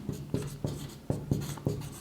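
Marker or chalk scratching across a board in a maths lecture, in a quick run of short strokes with slight pauses between them, close and fairly soft, with no voice over it.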